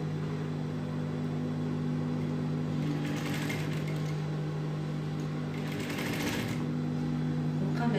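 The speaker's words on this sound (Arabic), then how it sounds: "صافي غنبدا نخيط لكم." A sewing machine stitching a bolero cardigan, a continuous steady mechanical whir with a low hum, close and even throughout, with brief scraping fabric handling over it.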